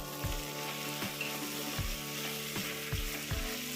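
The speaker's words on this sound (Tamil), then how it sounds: "காய் நல்லா வதங்கிட்டு இருக்குதுங்க." Brinjal and potato pieces sizzle steadily in an oiled pan, with regular scraping and stirring strokes of a spatula against the metal, close and fairly quiet.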